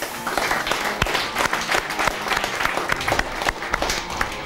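Warm studio audience applause on a TV show welcoming a guest, dense continuous clapping with sharp individual claps, sustained and fairly close.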